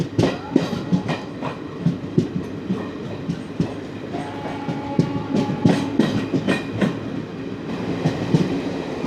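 Jan Shatabdi Express with ICF coaches gathering speed on a 110 km/h line, heard from onboard as a steady rumble with rhythmic clickety-clack of wheels over rail joints and rattling carriage noise.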